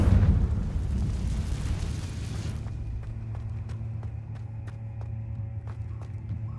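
A Confringo spell blast in Hogwarts Legacy roars loud and rumbling at the start, then fades over a few seconds into quieter ambient tones and light ticking.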